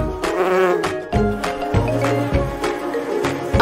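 Bees buzz continuously and fairly loudly close by, a droning hum with slight wavering in pitch and no talk.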